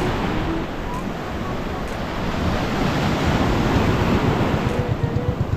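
Strong current and surf waves rush loudly and continuously during a river or sea rescue, a broad roaring wash with wind buffeting the microphone throughout.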